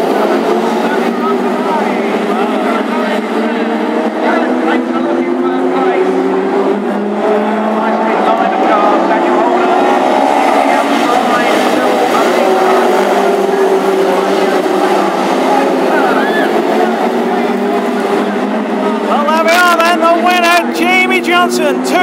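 Classic hot rod race cars roar around Ipswich Stadium during the East Anglian Championship final, a loud, sustained engine drone with shifting pitch as cars pass. A voice talks over the racing throughout.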